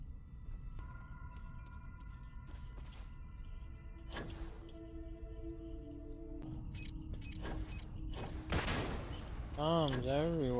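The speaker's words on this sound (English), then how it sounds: "Bombs everywhere. Very annoying." Bombs going off in a video game, with several sharp explosive bursts near the end rising over a busy bed of game sounds, tones and background effects.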